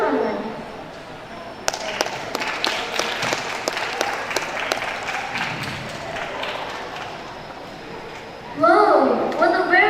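Clapping from an audience at a high school speech contest, scattered claps building into dense applause, with children's voices and chatter mixed in and a burst of talk at the end.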